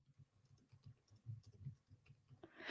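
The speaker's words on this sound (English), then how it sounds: "I'm typing this too fast" Quiet, quick keyboard typing with soft rapid clicks, close by, ending in a brief rush of noise.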